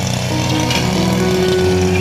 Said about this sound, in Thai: เอาเครื่องตัดหญ้ามาตัดเลยเนาะจะได้เร็วขึ้นนิดนึง